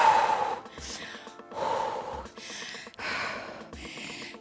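Heavy, rhythmic breathing after a home cardio workout, with four loud gasping breath cycles in a row, each a sharp inhale followed by a long exhale, close to the microphone with no talking.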